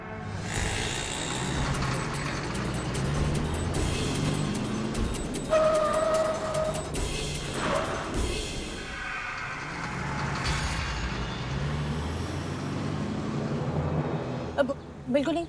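A truck moves along a road, giving an ongoing engine rumble with passing swells and a few brief tonal squeals midway. People talk over it, and the sound ends in short sharp knocks.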